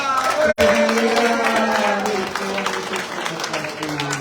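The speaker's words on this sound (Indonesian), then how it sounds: "Tepuk tangan semua" Church congregation clapping at an anniversary celebration, loud dense applause that carries on with a voice or music-like tones running underneath after a brief dropout near the start.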